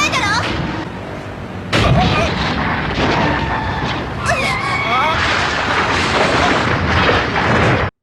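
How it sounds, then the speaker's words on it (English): Vehicles trade gunfire in the video game California Crisis, with booming shots and bursts, squealing and whooshing effects layered densely over driving noise throughout. "they quickly find themselves stuck in a gunfight between 2 groups of vehicles trying to run each other off the road"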